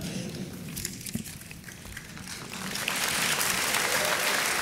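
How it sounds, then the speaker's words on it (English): Audience applauding at a book awards ceremony, scattered claps at first that build into dense, sustained clapping from a large crowd. "We should always clap for ourselves and for books."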